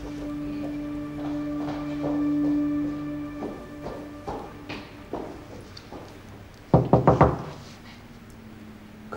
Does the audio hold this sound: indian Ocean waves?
no